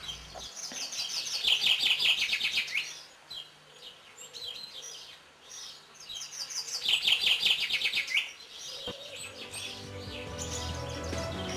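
Hoopoe calling in warm, sunny open countryside: two bright bursts of rapid chirping and twittering separated by quieter gaps, fairly close, with faint low background noise and no talk.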